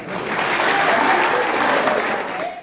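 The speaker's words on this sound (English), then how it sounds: "Observers cheer as though at a soccer game." Observers at a rowdy police trial held in a Haitian theater cheer and clap like a soccer crowd, a dense, steady roar of applause and voices filling the whole stretch before fading at the end.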